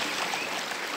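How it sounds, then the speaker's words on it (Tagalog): Sea waves wash steadily onto a beach, a continuous broadband rush of surf with no distinct breaks, heard up close and moderately loud with no voices. "Ganun mo yung hampas pa lang ng alon."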